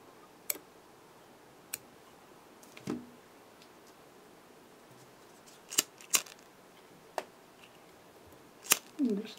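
Small scissors snip off thread at a fly-tying vise, giving several sharp, isolated clicks spread across a quiet, close setting, with faint handling rustle between cuts and no talking.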